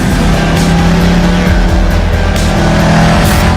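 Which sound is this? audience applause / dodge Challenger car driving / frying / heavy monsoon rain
dodge Challenger car driving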